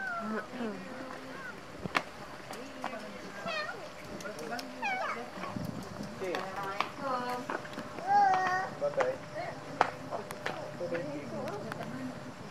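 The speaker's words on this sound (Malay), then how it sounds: "Kucing lari." A cat meows several times close by in short rising calls, mixed in among adults and children talking at a family Eid al-Fitr gathering at home.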